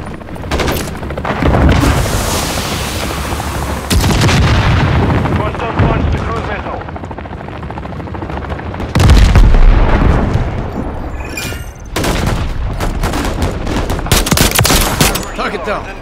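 Call of Duty gunfire and explosions, sustained loud volleys with booming blasts punctuating the stream of shots, while game voices shout over the battle.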